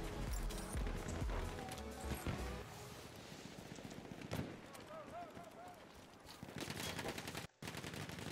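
Gunfire in the video game Battlefield 1 on Xbox One, with dense bursts of shots and crashes in a busy, loud battle mix that fades to scattered fire before a brief dropout.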